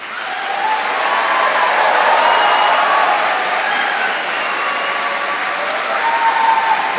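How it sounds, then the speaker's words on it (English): A large graduation ceremony crowd at Liverpool University bursting into a loud, sustained round of applause, a thick wash of clapping that swells quickly and holds steady for several seconds. "Do you want to give me your loudest round of applause,"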